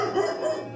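A nervous, aggressive dog gives a short, strained bark-like vocalization that holds for under a second at moderate loudness.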